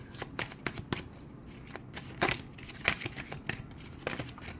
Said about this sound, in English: Let me just pull out all the cards.